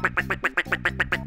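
A man imitates a duck, letting out about ten quick nasal quacks in a steady, rapid rhythm, close and clear with no other sound.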